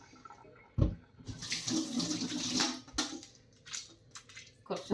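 Tap water runs into a kitchen sink during washing up, a broad rushing splash that swells and fades in bursts, with a sharp knock or clatter near the start and scattered handling noises, no voices.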